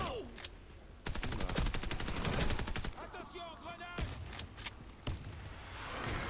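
Rapid bursts of automatic gunfire and single shots in the shooter game Warface, with a sustained volley in the middle, sharp loud reports and clattering effects throughout.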